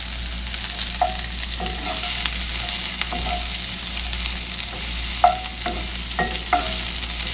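Steak frying and sizzling in a pan on the stove, a steady close hiss with occasional stirring clicks and scrapes, no talking.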